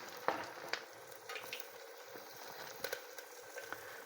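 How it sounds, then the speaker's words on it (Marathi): Vegetables sauté in oil in a pan, a soft continuous sizzle broken by a few sharp clicks and taps of stirring, faint and close with no voices. "गुलाबी होईपर्यंत या ठिकाणी आपल्याला परतून घ्यायचं आहे तेलामध्ये।"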